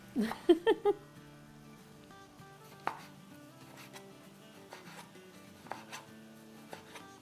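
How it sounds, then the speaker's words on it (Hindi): A knife chops medium-size tomatoes into small pieces for bhindi keema. A quick cluster of three or four taps comes first, then sparse single taps, all faint against a soft, steady background. "इसको हम काट लेते हैं, छोटे छोटे काटेंगे"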